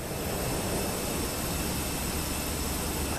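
EasyJet airliner jet engines in Microsoft Flight Simulator 2024, a loud, continuous broadband roar with a faint steady whine, unchanging and uninterrupted for the whole stretch.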